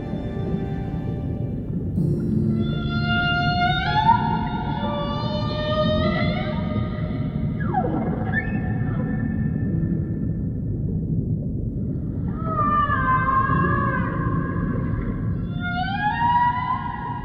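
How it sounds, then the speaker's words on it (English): A male humpback whale sings underwater, long rising and falling moans and whoops in two phrases separated by a lull, over a steady low ocean rumble. "Males can create a complex song to attract mates, which can last 10 to 20 minutes."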